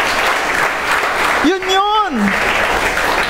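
A church congregation applauds during a Christmas Day service, loud steady clapping throughout with one short shout rising over the middle.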